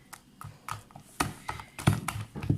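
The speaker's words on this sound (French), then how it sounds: "Je vais mélanger encore un peu" Soft, uneven tapping and scraping as pear and almond tart cream is stirred in a bowl. Close, quiet strokes arrive in an irregular rhythm.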